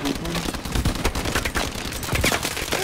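Video game gunfire rattles in dense, rapid bursts for a few seconds, fairly loud throughout with a voice mixed in.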